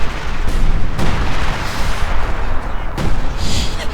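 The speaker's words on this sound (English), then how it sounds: "Heavy mortar crew desperately dodging the high explosive shells." High-explosive artillery and mortar shells bursting in Company of Heroes 2, a 2v2 match, with dense overlapping booms and blasts in rapid succession, loud and continuous, with a sharp crack near the start, the end and mid-clip.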